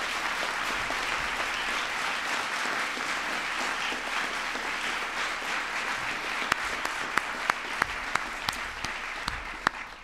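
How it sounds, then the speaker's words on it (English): Audience applauding at the White House Science Fair, a dense sustained round of clapping from a large crowd, with a few loud individual claps standing out near the end. "Give yourselves a big round of applause as well"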